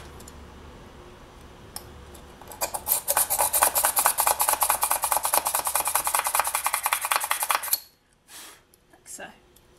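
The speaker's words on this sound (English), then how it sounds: "So I'm going to start by drilling these ones first. I'm just going to pop a little hole" Small hand drill boring a little hole into a polymer clay pendant, a steady close scraping and rasping that runs for several seconds and then stops, with a few faint handling clicks afterward.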